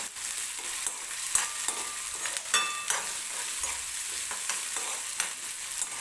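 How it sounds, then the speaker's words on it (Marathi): Chopped onion softening in oil for an aloo cheese paratha filling, a soft steady sizzle with occasional light clicks and scrapes of a spatula stirring in the pan. "फक्त हलकासा आपल्याला हा कांदा मऊ होईपर्यंत या तेलामध्ये भाजून घ्यायचा आहे."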